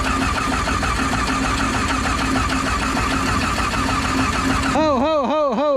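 A combine harvester's diesel engine cranks steadily and loud without catching, then a fast warbling whine takes over near the end; no one speaks.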